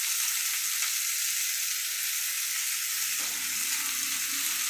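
Mixed vegetables including pumpkin, pointed gourd and ridge gourd frying in a pan, a steady bright sizzle holding throughout with a faint stir near the end.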